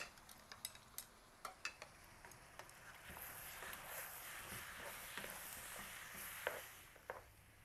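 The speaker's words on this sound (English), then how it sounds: "we're gonna get our little eggs up in there and our onion tops. We're gonna start mixing this around" Fried rice with eggs and onion tops is stirred in a pan: sharp utensil clicks and scrapes open, then a steady soft sizzle with occasional knocks against the pan, fairly quiet and close.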